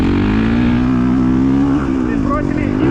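A motocross motorcycle accelerates toward a jump, its engine a loud, close, sustained drone that climbs slightly in pitch.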